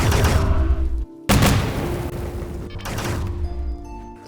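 Loud game explosions in RimWorld, a dense roaring blast, a sudden cut to near silence, then two more heavy booms rolling into one another with a dull rumbling tail.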